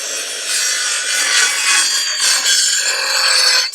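A hand saw cutting wood lengths for a raised garden bed, giving steady, loud rasping strokes close by with no voices.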